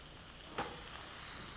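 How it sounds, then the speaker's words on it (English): Chicken hits very little hot oil in a stir-fry pan, giving a steady, close hiss of sizzling with one brief louder crackle partway through. "Can you see it sizzling?"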